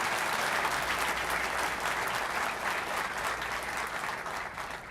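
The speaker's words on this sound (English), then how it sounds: "If we could just get a quick round of applause for the Honor Guard and" A graduation ceremony crowd for Recruit Class 57 gives sustained applause for the honor guard and pipe and drum band, a thick, even roar of clapping that stays loud and unbroken from start to finish.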